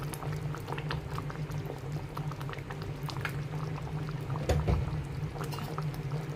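Sardine curry with curry leaves and raw coconut oil bubbles in a pot, a soft, steady simmer with continuous low gurgling and small pops, fairly quiet and close, with no voices.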